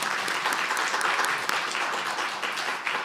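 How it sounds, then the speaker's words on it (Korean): A church congregation applauds during a Sunday worship service: dense, sustained clapping from many hands that stays full and even throughout, with no speech over it. "다시 한번 박수하겠습니다."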